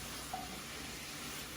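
Ingredients sizzle in a pot as they render down for chicken and dumpling soup, a steady, hissing frying crackle heard close up with a faint stir.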